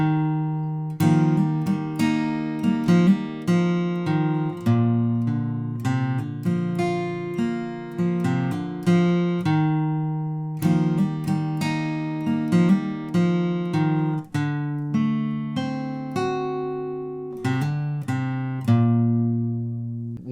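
A solo guitar plays the full Wayfaring Stranger chorus from The Last of Us Part II, a steady run of plucked notes and hammer-ons ringing clearly for about twenty seconds with no talking.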